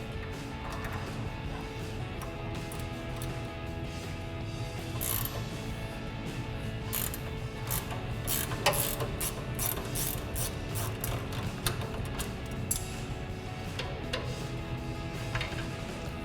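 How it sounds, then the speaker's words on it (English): A 21mm ratcheting wrench clicks repeatedly as it turns a sway bar link nut on a 2014-2024 RAM 2500 truck, with close, crisp ratchet bursts in an irregular rhythm. "we're gonna grab our 21mm ratcheting wrench, a 1/4" ratchet with a 10mm socket to hold this stud"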